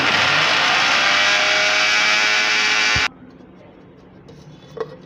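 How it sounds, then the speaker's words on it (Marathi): Kitchen mixer grinder blending mint chutney, a loud continuous motor whine that runs for about three seconds and then cuts off abruptly, leaving near silence with a faint tap. "पूर्ण मिक्सरला लावते"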